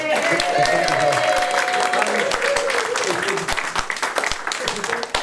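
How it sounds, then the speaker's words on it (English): Sustained applause from a folk club audience at Music at Manley for a singer's cracking set, dense clapping with a whistle, tapering unevenly toward the end. "Can we have a huge round of applause for Raphael for a cracking set?"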